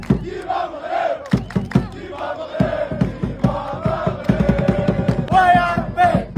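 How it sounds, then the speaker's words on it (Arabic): Brazilian and Moroccan football fans crowd together in a loud, continuous roar of cheering and chanting, with shouts and yells rising over a dense wall of voices throughout. "الجمهور ديال البرازيل والجمهور ديال المغرب ولكن اوف كورس حنا اكثر منهم"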